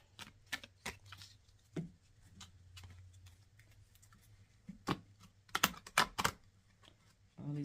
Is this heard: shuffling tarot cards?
yes